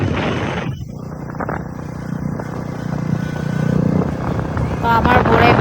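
A Royal Enfield motorcycle rides through high mountains on the road from Bomdila to Shergaon. Its steady engine and wind roar run continuously and loudly throughout.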